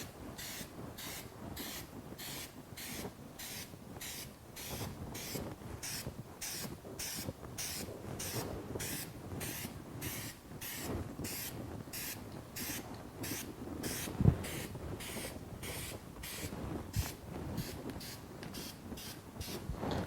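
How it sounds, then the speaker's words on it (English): A spray paint can sprays onto cattle in a rapid series of short, regular bursts, each a crisp hiss, quiet and close, repeating steadily throughout with no talk. "shake the can well, do a little test spray"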